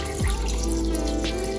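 Water pours into a cooking pot of meat and red peas for Jamaican-style soup, a short close splash and gurgle running steadily for a second or two.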